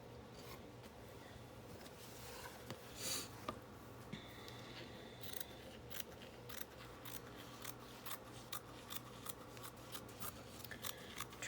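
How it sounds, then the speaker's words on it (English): Small scissors snip through fabric in short, repeated cuts, a steady run of crisp little clips close by with no talking. "using the little bitty fabric scissors makes me pause a moment and take my time"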